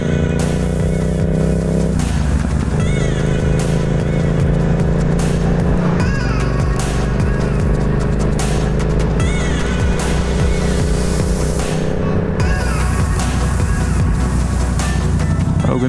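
A motorcycle rides along the road, its engine droning loudly and continuously, rising and falling as it shifts through gears, with wind noise filling the background and no talking.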